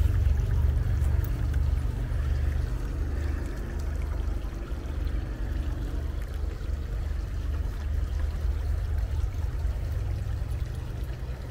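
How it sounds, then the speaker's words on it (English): Creek water flows steadily at a campground near Prescott, Arizona, a continuous broadband rushing and gurgling that stays even and fairly close throughout, with no voices over it. "There's the creek."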